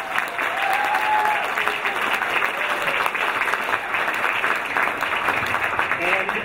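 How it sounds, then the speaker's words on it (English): An audience applauds at a financial inclusion debate event, a full, even roar of clapping sustained at steady volume, with a few faint voices beneath it. "Give him a big round of applause."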